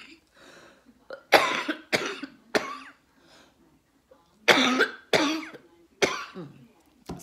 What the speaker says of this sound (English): I'm still battling a bit of a cough